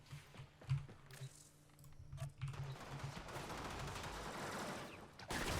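Rapid weapon fire from the Stropha in Warframe, a dense run of shots building from scattered bursts into a sustained loud barrage, with a sharper burst near the end.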